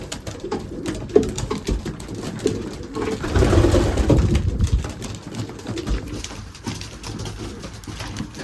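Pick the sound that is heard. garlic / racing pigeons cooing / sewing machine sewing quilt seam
racing pigeons cooing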